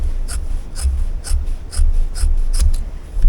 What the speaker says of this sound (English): So we'll just cut this right here.